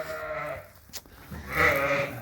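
Sheep and lambs bleat nearby, one call at the start and a louder, longer bleat near the end, with a brief click in between.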